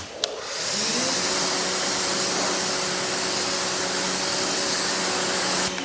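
An EGO battery-powered pressure washer sprays a wheel, starting with a sharp onset and then holding a loud, steady hissing jet with a faint motor whine underneath before cutting off abruptly.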